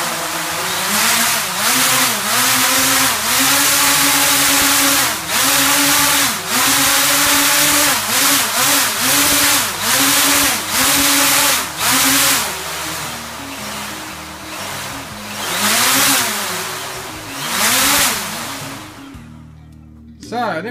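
A multirotor drone's motors run at high throttle on a bench test: loud, close whining bursts that rise and fall sharply in repeated pulses for about twenty seconds, then drop away.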